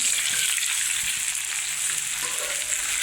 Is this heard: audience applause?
no